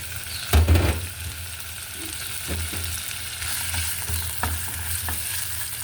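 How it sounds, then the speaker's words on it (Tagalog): A hotdog is sautéed in a pan for dinner, with a steady close sizzle throughout and a few sharp clinks and scrapes of stirring. "Tapos, gisa natin yung hotdog."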